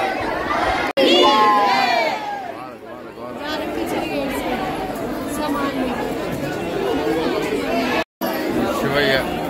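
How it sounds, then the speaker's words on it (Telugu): A large crowd at a Kali Mata temple chatters loudly and breaks into cheering and shouting, dense overlapping voices that stay continuous and close throughout, with two brief dropouts. "చాలా జనం విపరీతం చూడండి."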